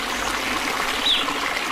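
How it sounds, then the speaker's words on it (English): Water flowing in an outdoor nature setting under clear skies, a steady soft trickle and wash that runs evenly throughout without any talk. "Listen to the beautiful sounds of the water waves."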